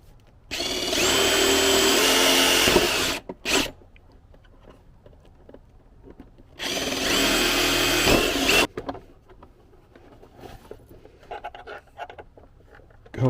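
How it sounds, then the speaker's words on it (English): A power drill with a 1/4-inch bit bores mounting holes for a golf cart battery install, two loud sustained whirring runs of about three and two seconds, each followed by quieter handling clatter and small knocks. "I got a 1/4-inch drill."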